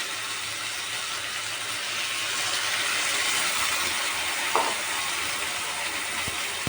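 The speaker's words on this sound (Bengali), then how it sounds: "সেই বাটিটা ধুয়ে আমি এখানে একটু জল দিয়ে দেবো" Water poured into a hot pan of frying Bengali chickpea ghugni masala gives a steady, loud broadband sizzle that swells slightly midway and holds, with a few faint clinks near the end.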